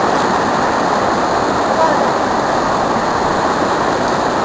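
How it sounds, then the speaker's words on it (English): A steady, loud rush of river water from a waterfall on the Hiwassee River, heard close up during a rafting trip, a constant broadband roar with no breaks. "we have another waterfall"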